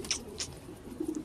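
Pigeons coo softly in a rooftop loft, with a few short low calls near the end and a couple of brief higher chirps or rustles earlier, close by and quiet.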